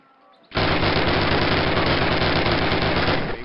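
Sustained automatic weapon fire in Call of Duty 2, a loud continuous burst that starts abruptly after a brief quiet moment and rattles on steadily for about three seconds, alone without talk.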